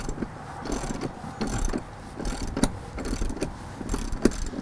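Running board bracket bolts with nylock nuts being snugged up by hand, giving a series of close, quick ratcheting clicks in short bursts, with no speech.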